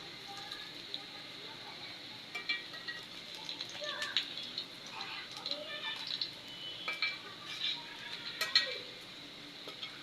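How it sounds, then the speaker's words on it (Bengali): Eggplant and red lentil fritters are flipped in a frying pan, giving soft, quiet scrapes and clinks of a utensil in irregular bursts over a faint background sizzle. "বড়াগুলো কিন্তু আমার ভাজা হয়ে গেছে, তো আরও কিছুক্ষণ উল্টিয়ে পাল্টিয়ে নেব।"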